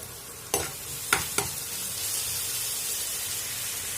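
Onion and garlic frying in a pan, a steady close sizzle with three sharp stirring scrapes early on, no talk.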